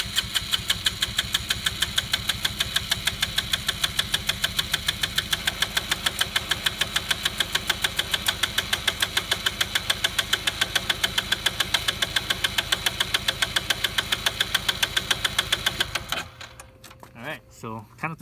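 A Honda C125 Super Cub engine cranks on the starter at full throttle during a compression test: a loud, steady, fast rhythmic chugging for about sixteen seconds that then stops, followed by a few clicks.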